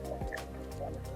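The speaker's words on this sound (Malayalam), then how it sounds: "വെളിച്ചെണ്ണ ഒഴിക്കുകയാണ്." Coconut oil is poured into a hot pan to temper a crab curry, making a brief, soft liquid splash and trickle with no talking.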